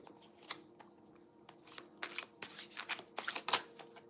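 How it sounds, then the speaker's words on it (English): Tarot cards being shuffled by hand, a few separate riffles and slaps at first, then a denser run of quick papery flicks and snaps, close and fairly quiet, with no voice. "I'm gonna pull some more cards"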